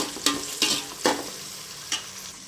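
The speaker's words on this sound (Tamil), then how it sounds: "வெங்காயம் நல்லா வதங்கிட்டு இருக்கு" Onions sizzling in a hot pan with a steady frying hiss, broken by four short scraping stirs of a spoon.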